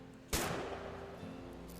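A single sharp gunshot in a video game, loud and close, cracking out then trailing off into a lingering low ring over a quiet, hum-filled background.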